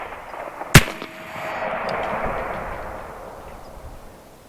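Air-powered 12 gauge shotgun firing a buckshot shell at a board outdoors, one sharp loud blast followed by a long fading rumble echoing away.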